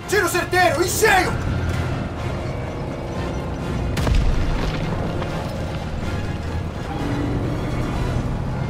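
A tank shell explosion in the World War II video game Call of Duty WWII, with a deep boom partway through and rumbling battle noise around it, while someone talks excitedly over the action.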